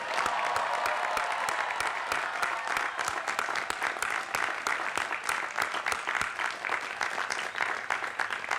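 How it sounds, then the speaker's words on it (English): Dense, steady applause from a large audience at a 2016 Ithaca College commencement ceremony, many hands clapping continuously at even loudness across the whole stretch with no voices on top. "Students, please join me in a round of applause for our faculty."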